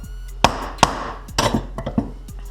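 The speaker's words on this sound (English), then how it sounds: "See how you just tap it and they move? It's called setting the U-joints." A hammer sets a U-joint on a Toyota Tacoma driveshaft. About half a dozen sharp, close metallic taps come at uneven intervals, with a faint background hum between strikes.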